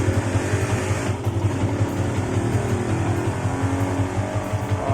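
A Yamaha Sniper 150 motorcycle idles while its charging system is tested, a steady low engine hum and fast putter, close and constant throughout with no talking.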